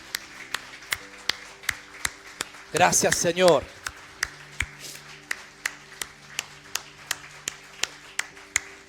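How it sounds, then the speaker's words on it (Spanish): Church congregation clapping to the King during a worship service, a steady rhythmic beat of claps close by, with a voice speaking over it midway. "Dale un aplauso fuerte, fuerte, fuerte, fuerte al Rey"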